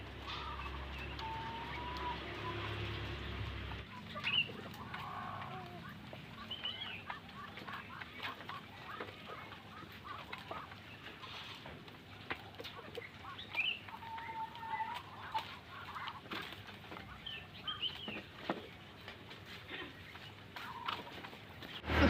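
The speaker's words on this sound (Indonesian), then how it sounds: "Sudah selesai kasih makan ayam" Chickens cluck and peck while being fed, making a busy scatter of soft clucks and scratchy pecking sounds nearby over a low background, with a brief hum at the start.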